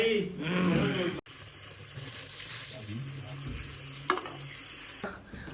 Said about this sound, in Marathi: पूर्ण टोमॅटो कांदा अगदी व्यवस्थित भाजलाय.